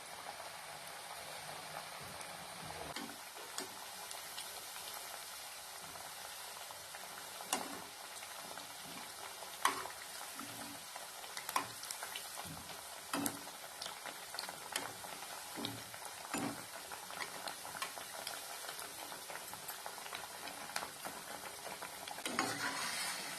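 Moong dal vadas deep-frying in oil over a medium flame, a continuous bubbling sizzle with scattered crackles and pops, fairly quiet and close.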